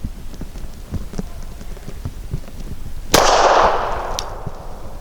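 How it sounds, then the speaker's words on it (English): Canik TP9 Elite SC pistol firing a Stealth 165 grain subsonic round, one sharp, loud shot with a short echoing tail, preceded by quiet clicks and handling sounds. "last I am going to shoot the Stealth 165 grain"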